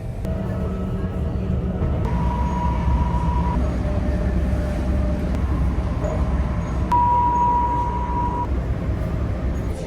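Steady rumble of a train riding back to Amsterdam in the Netherlands, heard from inside the carriage, with two faint tonal whines rising briefly over the continuous rolling noise.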